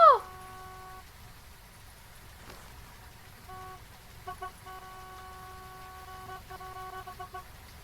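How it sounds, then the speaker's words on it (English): A car horn in the Phasmophobia ghost-hunting game, on the Nell's Diner map, sounds as a steady tone, then as a series of short honks and longer blasts over a low background hiss. "beep the horn, honk the horn if the hunt starts"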